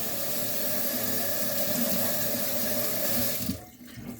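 Water gushes steadily from a kitchen faucet into a sink for rinsing dishes, a close, loud, continuous rush that cuts off abruptly near the end.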